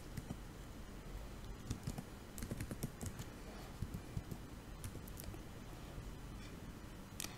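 Soft, quiet typing on a computer keyboard as a topic name is entered in code, with irregular clusters of light key clicks over a steady background hiss.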